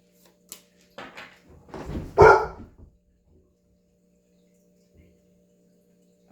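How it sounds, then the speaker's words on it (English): A dog barks several times in short bursts close by, the loudest bark near the middle, then the room goes quiet apart from a low steady hum. "Stop making my dog bark like a savage."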